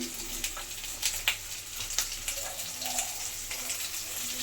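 Green chillies and cashews sizzle in a pan of oil while making paneer butter masala, a soft, steady crackle with scattered pops, heard alone at low volume.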